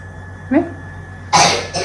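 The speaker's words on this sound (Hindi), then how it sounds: "खांसी हो रही है?" A short cough followed by a louder, harsher cough, close by, with a faint hum underneath.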